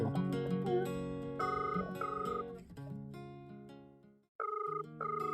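A phone's ringback tone plays during an outgoing call as a steady repeating musical ring pattern, loud and alone. It pauses briefly near the end and then resumes.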